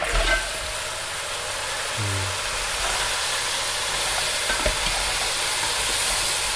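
Crab frying and being stirred in a pan with fish sauce, a steady broadband sizzle throughout with a brief low clunk of the spoon near the middle, no talking.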